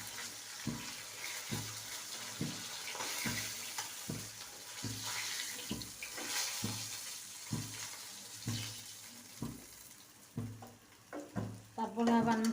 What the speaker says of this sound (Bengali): এখন আমি মাছ কয়টা ভুনা করব